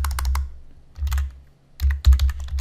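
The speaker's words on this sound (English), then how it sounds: "I'm just typing right over the template that's there." Keystrokes on a computer keyboard while filling in a survey template, quick clicky taps in short bursts separated by pauses, close and moderately loud, with no talking.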